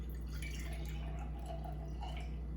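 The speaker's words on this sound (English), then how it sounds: "So you're gonna fill the jar with water." Water trickling and dripping into a glass jar, a quiet, steady pour of small splashes over a low background hum, with no talking.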